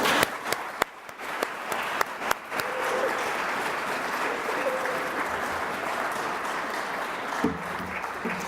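Audience applauding at a workshop finale, a few sharp individual claps at first that swell into sustained, dense crowd clapping, fairly loud and close, with a faint voice near the end.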